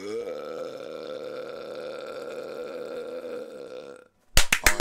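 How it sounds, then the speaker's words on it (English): A very long, sustained burp drones loudly for about four seconds with a steady tone, then stops and is followed by a few sharp clattering hits. "He has the longest burp I ever heard in my life."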